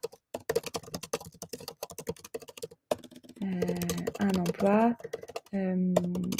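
Rapid, uneven clatter of keys on a computer keyboard as a message is typed, close and crisp. It runs alone for a few seconds before a person starts talking over it.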